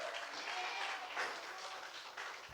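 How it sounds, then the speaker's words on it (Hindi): Congregation applause during a Hindi church sermon, a steady wash of clapping heard at low level and somewhat distant, continuing evenly with faint voices underneath. "यीशु के नाम से ताली बजाओ"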